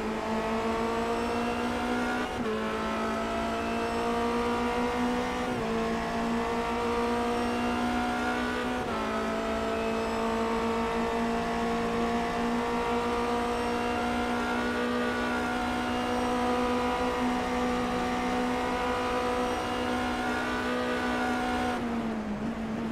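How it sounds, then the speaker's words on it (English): On-board Formula Renault 2.0 race car engine at Monza, a loud steady high-pitched whine that holds close for the whole stretch, with brief dips and rises as the driver shifts through corners. "let's ride a couple of corners on board with that number 24 car"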